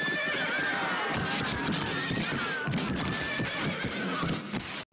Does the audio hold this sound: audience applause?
no